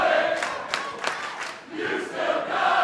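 A wrestling arena crowd cheers and applauds in rising and falling waves, with shouts breaking through a dense, moderately distant roar.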